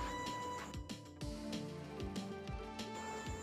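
A sewing machine runs steadily, stitching a folded half collar neck strip on fabric, its rapid needle rhythm loud and continuous throughout.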